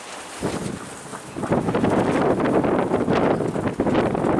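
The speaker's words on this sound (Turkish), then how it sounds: "Havada rüzgar." Wind gusts across an open rooftop where pigeons are kept, a rough, full-spectrum rush that swells after a quiet start and stays loud and buffeting against the microphone, with no talking.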